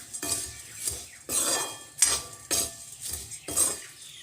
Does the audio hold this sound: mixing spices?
yes